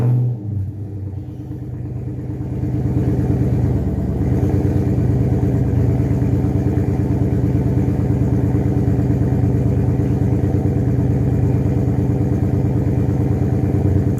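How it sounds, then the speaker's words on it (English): A Dodge Challenger engine with a quad exhaust running straight pipes through glass packs and no resonators holds a loud, steady, deep rumble close by after a brief quieter start, with no talking. "we got quad exhaust on here. And as you can see, no resonators on the back, straight pipe from glass packs."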